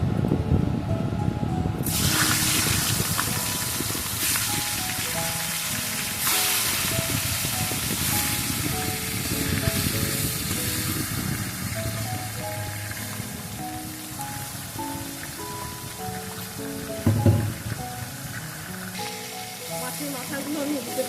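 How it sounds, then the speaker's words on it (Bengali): Hilsa fish heads frying in oil in a wok, a loud, steady rain-like sizzle that starts abruptly as they go in and continues with crackles throughout. "এখন আমি মাছের মাথাগুলো ভেজে নেব।"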